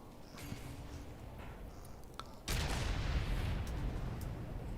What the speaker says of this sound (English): I'm not sure what's the deal with the explosions.